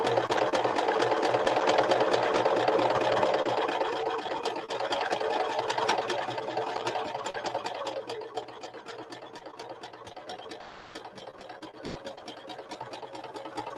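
A sewing machine back stitches across a fabric clutch bag, a steady close rapid needle chatter running continuously and easing slightly toward the end, with no voices.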